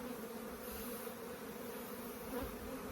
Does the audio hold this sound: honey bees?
yes